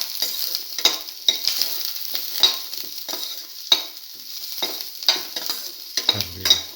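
Garlic mashed potato stir fry with cinnamon and salt, stirred in a hot pan: repeated scraping strokes of a utensil over a constant soft sizzle, close and without speech.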